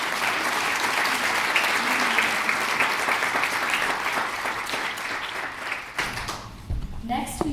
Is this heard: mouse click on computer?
no